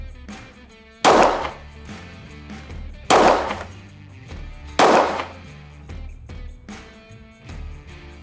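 Four heavy gunshots fired into a wardrobe ring out loud and close, spaced a couple of seconds apart, each with a sharp crack and a short decaying tail.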